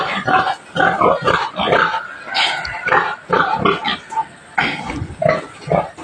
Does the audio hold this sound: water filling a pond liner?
no